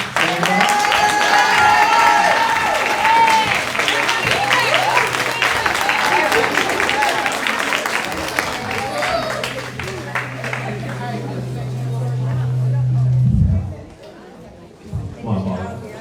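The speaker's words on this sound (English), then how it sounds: "One applause for our students." An audience at a graduation for Gifted Hands Academy students breaks into sustained applause and cheering with crowd chatter mixed in, fading out near the end before a few scattered claps.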